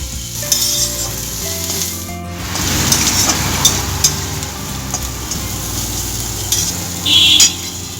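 Soybean chunks sizzle loudly with spices in a pan for veg chowmein, a dense crackling fry broken by occasional scrapes and clinks of a stirring spoon, with no voices.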